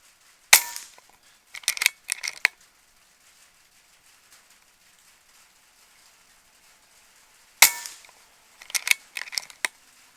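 A Gen 1 Air Venturi Avenger .22 air rifle fires pellets: two sharp, close shots about seven seconds apart, each followed by a quick cluster of mechanical clicks, with near silence between.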